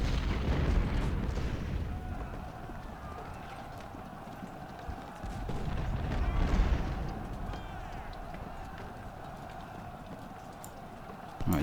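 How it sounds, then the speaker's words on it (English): Cannon fire in the Ultimate General: Civil War game during the Battle of Fredericksburg: two muffled, rolling booms rise out of a constant battlefield din with galloping hoofbeats underneath. "The cannons are firing at the skirmishers"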